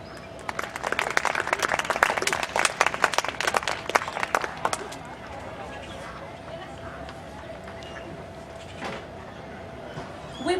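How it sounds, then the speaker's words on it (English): A burst of crowd applause fills the first few seconds, then dies away into quieter room noise with voices in the background. "please give a generous round of applause as we present the Merry Court."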